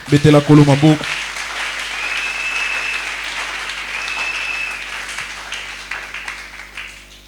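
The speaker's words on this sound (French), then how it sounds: "Acclamez le Seigneur." A church congregation applauding and cheering, with a voice at the start and then sustained clapping and shouts that gradually thin out toward the end.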